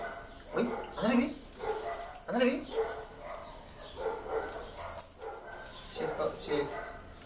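A dog named Kira barks and whimpers indoors in short repeated yips and woofs close by, mixed with people talking over them.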